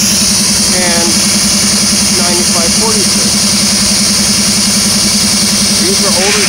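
A diesel locomotive idles in a rail yard with a steady, pulsing low engine throb running throughout, while faint chirps and other background sounds drift in over it.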